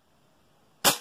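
A single sharp shot from a Tokyo Marui MWS gas blowback airsoft rifle fitted with a modified magazine, a loud snappy crack after near silence.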